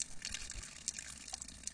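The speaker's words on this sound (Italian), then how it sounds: "Devi chiudere l'acqua" Water from a broken tap runs steadily in a school setting, a soft, continuous splashing hiss with small irregular drips and spatters, quiet and close, with no talking.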